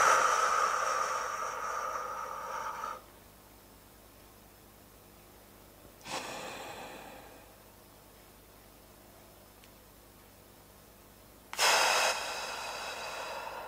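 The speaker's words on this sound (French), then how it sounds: "Donc, j'inspire." Deep breathing exercise for stress relief: a long close inhale, a held silence, a slower exhale, then another loud breath in after a pause, all breathy and near.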